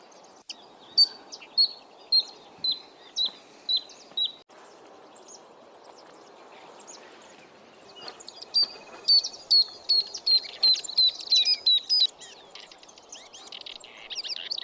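Various birds in the trees lining an old railway embankment give repeated short, high chirps in two rhythmic bursts, with a faint insect-like hiss and distant ambient background underneath.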